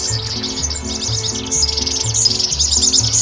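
A red bishop bird calls steadily to proclaim its territory, with a run of high buzzy chirps over a repeating low background hum.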